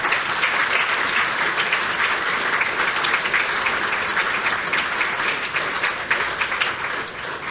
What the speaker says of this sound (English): Can we give a round of applause for all these people?